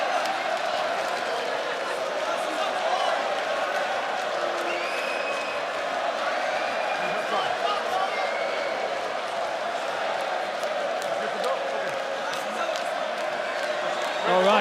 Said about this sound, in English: Hughes imploring the crowd for a little bit of energy, a little noise